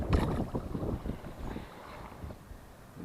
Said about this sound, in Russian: Сумасшедший ветер.